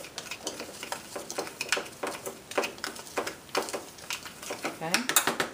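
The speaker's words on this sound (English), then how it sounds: "So we're just going to stir that up." Spoon stirring ground beef with homemade taco seasoning in a pot for black bean taco soup, close irregular scraping and clinking of utensil against metal, with a soft sizzle beneath and faint voice.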